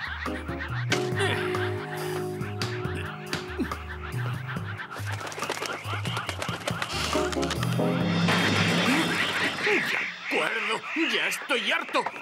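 Cartoon birds on a roof honk and squawk in rapid, overlapping bursts, loud and close, with voices talking over and between the calls.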